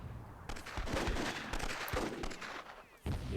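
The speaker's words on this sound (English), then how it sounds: "Fenster just trying to get the heck out of there, dodging all kinds of gunfire and RPGs." Heavy gunfire and RPG blasts in the video game Myth II Soulblighter, a dense, continuous barrage of overlapping shots and explosions with brief lulls, loud and close throughout.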